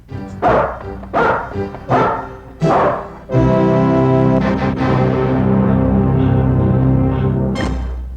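A dog barks four times in quick, sharp yips, then lets out a long, sustained whining howl that fades before a final short yelp, loud and close.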